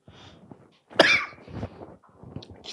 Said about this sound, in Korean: 기침이 나와서